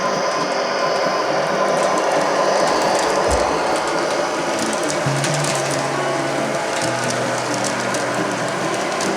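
Steady mechanical rumble and rattle of an MTH Railking CTA 3200 Series model subway train running continuously, with faint clicking and a low hum throughout, no voices.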